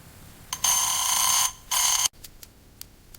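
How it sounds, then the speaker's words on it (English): An alarm clock rings loudly in two bright, continuous buzzing bursts close by, the first nearly a second long and the second shorter, followed by a few faint clicks in a quiet room. "The alarm clock starts ringing."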